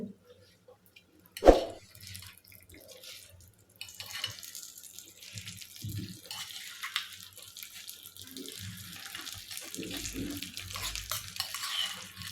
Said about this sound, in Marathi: आता हा तयार झालेला तडका आपण दोन्ही चटणीवरती थोडा थोडा टाकून घेऊया